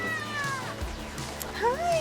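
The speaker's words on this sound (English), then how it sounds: "Kitty! Meow!" A cat meows loudly and repeatedly in the rain, with rain pattering steadily underneath and a person speaking nearby between the cries.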